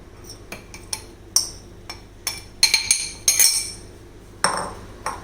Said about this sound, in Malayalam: ഇനി ഇത് നമുക്ക് ഒന്നും കൂടെ അടിച്ച് മിക്സ് ചെയ്ത് കൊണ്ടുവരാം.